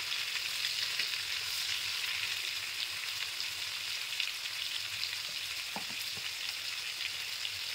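Steady, loud sizzling of prawns frying in hot oil in a pan, continuous throughout with faint crackles and no talking.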